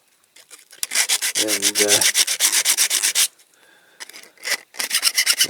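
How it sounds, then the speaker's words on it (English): A hand file rasps back and forth across the metal axle of a Dinky Toys 968 BBC TV Roving Eye vehicle in quick, loud, close strokes, with a short high squeal, a brief pause and then renewed filing. "So I'm going to try and file this to get these wheels off"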